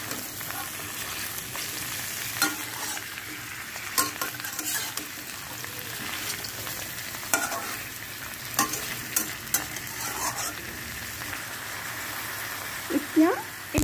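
Ridge gourd and tomato frying together in a pan, stirred with repeated scraping strokes over a steady sizzle, close and moderately quiet.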